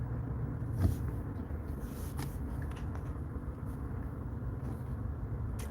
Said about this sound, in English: It's some real traffic out here today.